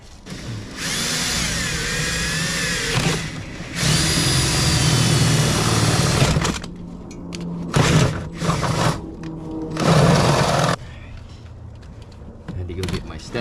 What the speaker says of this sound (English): I'm just gonna have to drill another hole